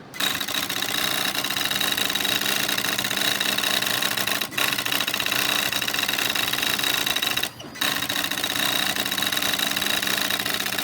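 NEC Spinwriter daisy-wheel printer running its self-test, a loud dense mechanical chatter of rapid strikes going nearly continuously, with two brief pauses between lines.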